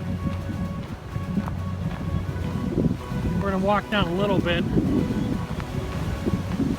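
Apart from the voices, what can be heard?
strong wind gusts blowing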